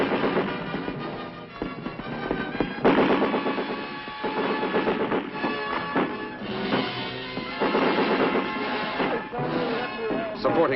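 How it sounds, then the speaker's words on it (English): Enemy mortar and automatic weapons fire in an archival army film about airmobile operations, heard as dense, continuous bursts and rattling blasts over a muffled, low-fidelity soundtrack for the full stretch, with no talk. "Progress is halted because of enemy mortar and automatic weapons fire."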